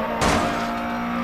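Rally car in DiRT Rally slamming into a wall: a sudden loud broadband thump over a steady engine drone, followed by scraping rumble as the engine keeps running.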